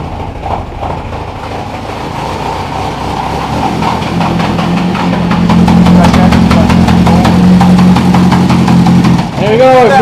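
A Toyota truck engine idling and then revving as the truck starts moving, a loud rough rumble that builds and holds, with people talking over it.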